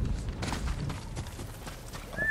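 Horse hooves pounding in Ghost of Tsushima during a storm on the Komatsu coast, a steady low rhythmic clatter under rain and wind, with a brief whinny-like tone near the end.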